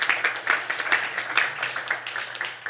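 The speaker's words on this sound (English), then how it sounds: "Applause for Nancy." Panel audience at a neuroscience and AI conference applauding a speaker, a brief burst of many hands clapping in a room, fairly close and fading slightly.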